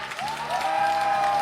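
A streamer's applause-and-woo sound effect replays during a golf stream, with steady crowd clapping and a rising whistle-like woo tone running throughout, fairly loud and alone.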